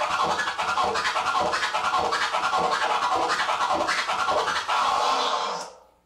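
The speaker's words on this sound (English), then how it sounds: "The flare sounds like this." Flare scratches cut on a turntable by the X-Ecutioners, a dense run of quick chopped stabs in an even, driving rhythm, loud and close with no talk, fading out at the end.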